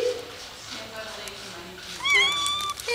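A cat meows loudly in a room with other cats, giving a rising drawn-out cry near the end, while someone talks softly over the first part.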